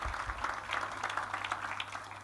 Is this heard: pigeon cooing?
no